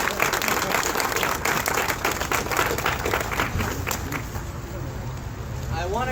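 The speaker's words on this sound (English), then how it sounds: "So another round of applause," An audience at a grand opening ceremony breaks into sustained, dense applause: many hands clapping together at close range for several seconds, with a voice rising briefly toward the end.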